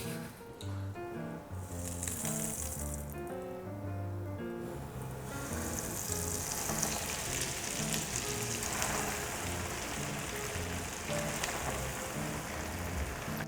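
Oil sizzles and crackles steadily as eggs fry, a soft continuous hiss beneath a light musical backdrop.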